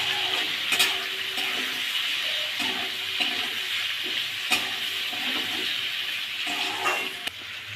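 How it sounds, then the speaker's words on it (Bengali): Potatoes seasoned with salt and turmeric fry in a pan with a constant loud, hissing sizzle, and occasional light clinks from stirring sound close by. "অল্প করে লবণ দেব, একটু হলুদ দেব, দিয়ে এটাকে আমি ভেজে নেব।"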